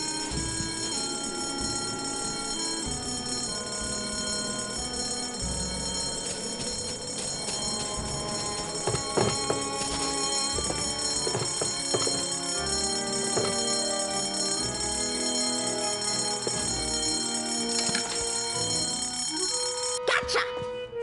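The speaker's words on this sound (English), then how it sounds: "In case of fire, pull alarm." Fire alarm bell at a school after the alarm is pulled: a loud, continuous metallic ringing that fills the whole stretch without pause, with a few scattered clatters and knocks beneath it and no clear talking.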